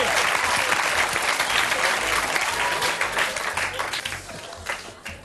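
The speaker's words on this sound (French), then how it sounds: "Allez, on l'applaudit s'il vous plaît." Studio audience at a French television show claps steadily for several seconds, a dense wash of applause that gradually thins toward the end, with some talk mixed in beneath.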